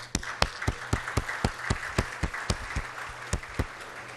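A smattering of hand claps, fairly sparse and irregular, a dozen or so sharp claps spread over a few seconds rather than a full roaring ovation.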